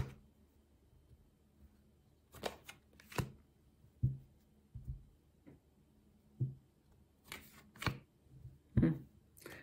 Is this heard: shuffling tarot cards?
yes